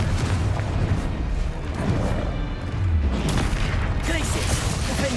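Booming fire-blast spells from Hogwarts Legacy, loud heavy explosive bursts that roll in waves with crashing impacts, while a player calls out spell names over the noise.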